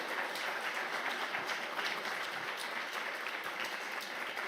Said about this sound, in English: May we have a huge round of applause for our panelists?